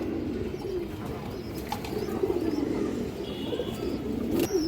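Pigeons, a pair of fancy breeds kept by a hobbyist, coo in a low continuous warble, with occasional chirps and faint wing movement close by.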